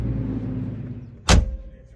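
A single solid thunk as a Porsche 993 door is shut, sharp and close, following a quiet low engine hum.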